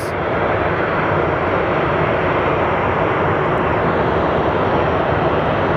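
A Frontier airliner in Grizzly livery at Sky Harbor Airport produces a steady, loud broadband roar with no clear rise or fall over the whole stretch.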